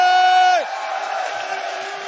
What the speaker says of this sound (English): Let me hear one more cheer.